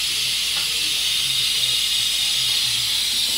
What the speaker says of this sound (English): I just released the steam